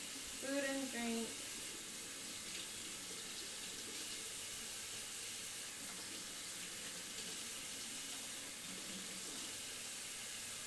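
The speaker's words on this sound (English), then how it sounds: "The microphone is totally picking up the water." Water runs steadily from a kitchen tap while mead is being made, giving a continuous broadband hiss through the whole stretch, with a brief burst of voices near the start.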